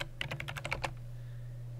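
Fast burst of about eight crisp keystrokes on a computer keyboard, typed in a quick run during an image search, then stopping, with a steady low hum continuing underneath.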